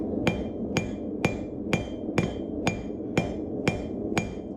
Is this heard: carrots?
no